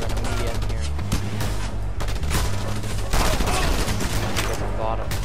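Dense, loud gunfire in the video game Just Cause 2 during a sniper fight, rapid overlapping shots and bursts packed together without pause and mixed with a game soundtrack and a voice talking.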